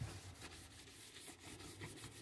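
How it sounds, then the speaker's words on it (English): Rhythmic scrubbing strokes while cleaning a filthy barracks, quiet and close, with repeated rubbing passes every fraction of a second. "And we'll keep scrubbing."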